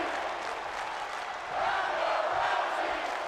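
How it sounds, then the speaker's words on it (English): A virtual arena crowd cheers for a women's wrestling match on SmackDown in the WWE 2K22 video game, a steady roar that swells slightly partway through. "Crowd here tonight, they pumped for Ronda Rousey."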